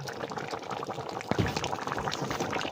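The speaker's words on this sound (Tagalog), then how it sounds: "Habang kumukulo yung gulay na ginataan" Vegetables simmering in coconut milk for ginataang gulay bubble in a pot with a steady, close, busy hiss, and a brief clatter is heard partway through.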